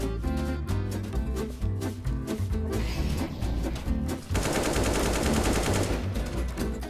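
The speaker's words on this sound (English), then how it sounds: "the AK sounds so nice." Rapid AK rifle gunfire in Counter-Strike at a BLAST Premier Open Spring 2025 match rattles out in dense automatic bursts over a steady, loud game mix, with sustained firing through the second half.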